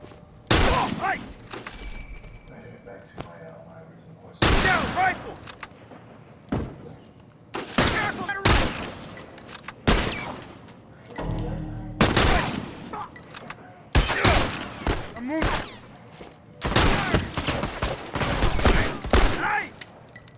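Hunting rifle and other gunfire in The Last of Us Remastered on PS5: loud, sharp shots in irregular clusters with thuds between, while someone talks excitedly over parts of the action.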